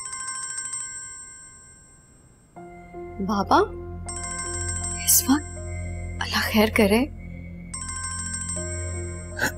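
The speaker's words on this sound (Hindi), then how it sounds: "किसका फोन है?" A telephone ringtone chimes in bursts inside a home, repeating between lines of dialogue as people talk over it in a TV drama scene.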